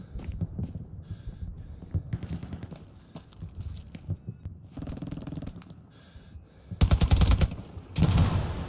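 Gunfire in the WWII shooter Hell Let Loose: scattered rifle and machine-gun shots crack at varying distances, then two heavy, close automatic bursts ring out near the end.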